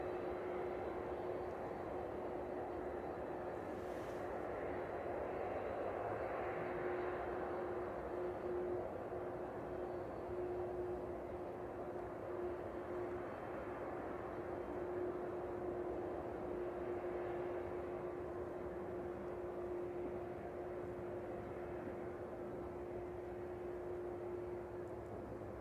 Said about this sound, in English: Sounds like that one already shutting down one of its engines.